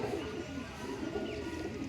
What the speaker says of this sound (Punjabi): ਇਹ ਕਬੂਤਰ ਸੋਹਣਾ ਹੈ